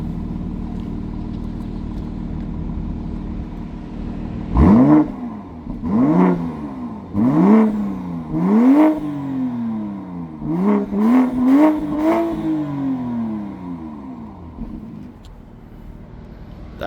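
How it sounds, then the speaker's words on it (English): A warmed-up 2026 BMW X6 xDrive40i Nightfall Edition gives a series of sharp exhaust revs, about eight quick blips that rise and fall, the last few bunched close together, over a steady idle rumble. "Let's get a couple of exhaust revs."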